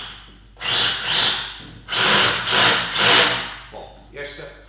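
A Makita HR002 cordless rotary hammer drill runs in rotary hammer mode in a series of loud, close bursts, each lasting a second or so with short pauses between them.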